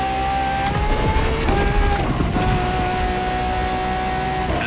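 A LaFerrari hybrid supercar with petrol and electric power in The Crew Motorfest driving game, its engine droning loudly and steadily with pitch shifts as it revs and changes gear.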